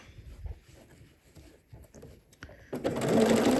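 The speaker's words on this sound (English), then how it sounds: "I'm just doing that zigzag again on that same seam allowance, but on the lining side" A sewing machine zigzag-stitches swimsuit lining to elastic along a seam allowance, starting up loudly near the end after quiet handling noises and low background.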